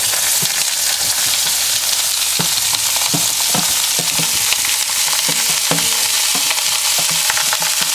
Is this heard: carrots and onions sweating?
yes